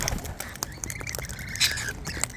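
Wild Australian birds calling outdoors during hand feeding: scattered raspy squawks and quacking notes with a short thin whistle, moderately close but fairly soft, over a busy background of clicks and rustling, no talk.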